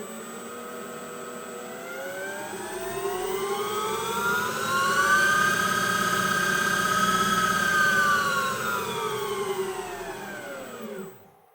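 A CNC spindle motor run through a VFD spins up from rest with a steady rising whine, holds a loud, even tone, then winds down toward the end, with no talk.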